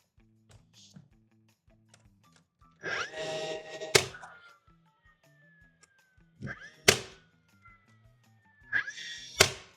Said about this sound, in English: This nail gun is bulky, but it saves me having to bring up a air compressor, air hose, and a nail gun separately